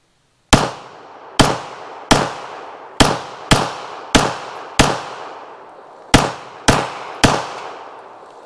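Eleven sharp pistol shots from a WWII Inglis High Power Mark II, fired close by at an uneven pace, each a loud crack with a short fading tail, alone with no talk.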